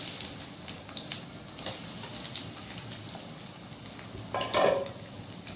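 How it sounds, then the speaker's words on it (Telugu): Onions drop into hot oil in a pan for a green chicken fry, making a faint, steady sizzle with a brief louder burst of crackling partway through. "ఇప్పుడు ఆయిల్ వేడైపోయింది. ఎర్రగడ్డ వేసేసుకుందాము."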